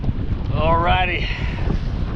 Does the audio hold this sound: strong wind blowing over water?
yes